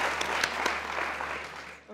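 A studio audience on a television quiz-style talk show applauds with a burst of clapping and a few sharp individual claps, fading out toward the end.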